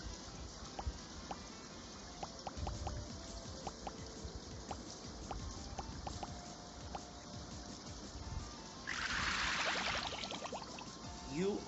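Water drops fall in an accessible rain video game, heard as quiet, scattered drips and plinks over a low background, with a brief splashing burst near the end.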